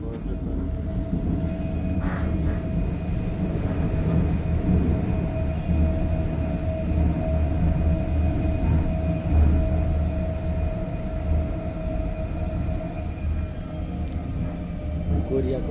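A passenger train from Busan, Korea, rumbles along in a steady, close interior drone with faint wheel squeal and rattling, and muffled voices sit low in the background.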